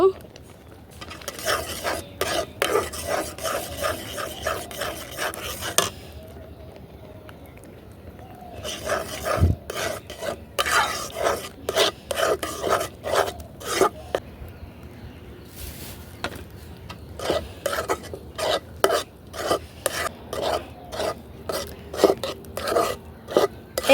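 Repeated scraping and tapping of a spoon in a pot as dry rice flour is stirred bit by bit into a palm fruit mixture for pitha, rhythmic close strokes in bursts with a short pause midway.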